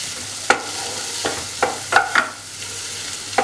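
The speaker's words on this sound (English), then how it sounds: "So now we've added the onions and we let it caramelize" Onions caramelizing in a pan for risotto, a faint low sizzle broken by several sharp scraping stirs of a utensil, no voices.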